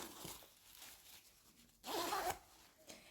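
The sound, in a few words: zipper being closed on a sewn skirt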